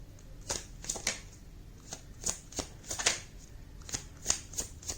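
Tarot cards are shuffled and handled up close, giving a quiet run of crisp riffling snaps and flicks in uneven clusters over several seconds.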